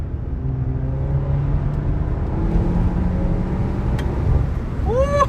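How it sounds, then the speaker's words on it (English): A VW Golf 7 GTI corners hard on a curving road, with steady engine and road roar throughout and a brief, rising tire squeal near the end. "Can hear a bit of tire squeal as well as we approach the limits of the car, the tires."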